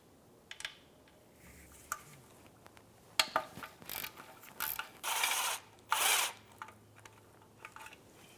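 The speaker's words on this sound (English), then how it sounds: "And take out the rest of the bolts using a 10mm socket." A ratchet with a 10mm socket loosens oil pan bolts on a 1998-2010 Volkswagen Beetle, scattered sharp clicks followed by two short bursts of rapid ratcheting, fairly close and moderately loud.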